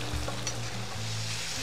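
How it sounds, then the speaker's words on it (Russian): Onions sizzle and crackle steadily while frying over maximum heat in a cauldron (kazan) on a campfire, with a low hum underneath, close by and continuous. "Ну, жарим примерно минут 5-10. Огонь на максимум, помешиваем."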